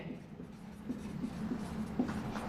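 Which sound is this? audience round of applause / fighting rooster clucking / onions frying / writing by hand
writing by hand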